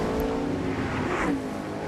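Race cars compete in the A-Main of the Knoxville Nationals, with an engine roar holding a steady pitch, then rising and swelling briefly before easing off as a car passes nearby, loud and without talk.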